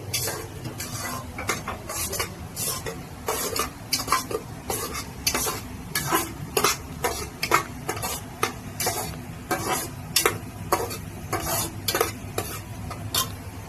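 Raw masala and onions for a mutton curry being roasted in a pan, with a steady low sizzle under rhythmic, repeated scraping strokes of a spoon stirring throughout, close and fairly loud, without talk.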